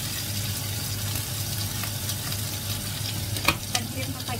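Shrimp frying in a little oil in a pan, with a steady close sizzle and light stirring scrapes, a couple of sharper pops near the end; no talk.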